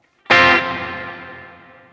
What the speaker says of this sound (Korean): 이거는 쉽게 말하면 그냥 에코